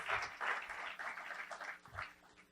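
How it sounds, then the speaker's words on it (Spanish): Crowd applause, a room full of hands clapping together, moderately distant and swelling in uneven waves before tapering off. "les podemos dar otro súper aplauso"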